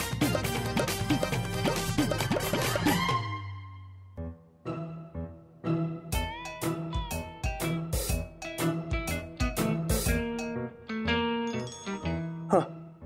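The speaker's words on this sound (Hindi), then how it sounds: "फोन बज रहा" A mobile phone rings in a Hindi sitcom scene, starting after a few seconds as a repeated bright melodic ringtone of short chiming notes that plays loud and steady after a burst of music.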